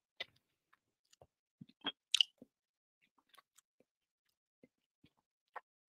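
Bites and chewing of a juicy, slightly sour Granny Smith apple, heard as sparse, quiet crunches and wet clicks spread across the stretch with a sharper bite near the middle and long near-silent gaps.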